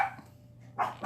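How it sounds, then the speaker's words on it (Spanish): Dogs at home barking, two sharp close barks, one at the start and another near the end, separated by a quiet stretch. "Si escuchan ladridos, son mis perros que están revueltos"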